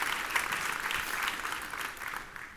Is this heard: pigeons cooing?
no